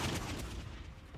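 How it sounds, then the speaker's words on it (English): A volley of gunshots in the video game The Life and Suffering of Sir Brante, a brief, muffled burst of overlapping booming shots at low level, fading quickly. "A volley of gunshots."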